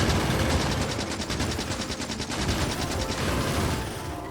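Gun turrets in the video game Factorio fire at enemy worms in a rapid, steady stream of automatic shots that runs loud and unbroken throughout.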